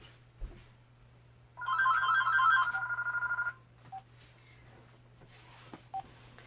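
A house telephone rings in a short electronic burst of about two seconds, heard faintly indoors with a low steady hum underneath and a few soft clicks afterward.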